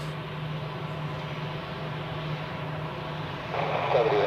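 Steady engine roar from an airliner at the start of its takeoff run on runway 28 at Zurich Airport, heard from a distance. The sound is constant and swells slightly louder toward the end.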